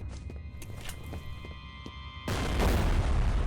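Bomb blast in the first-person shooter F.E.A.R., a sudden loud booming explosion that follows scattered game sounds and then rumbles on.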